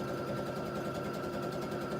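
A sewing machine runs steadily, stitching the side seam of a reversible tote bag with right sides together, its motor a continuous close mechanical whir without pause and no talking.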